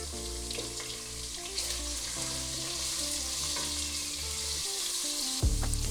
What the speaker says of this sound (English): fry these tomatoes till it becomes nice and soft